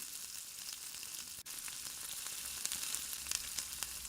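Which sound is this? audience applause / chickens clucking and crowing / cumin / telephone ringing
cumin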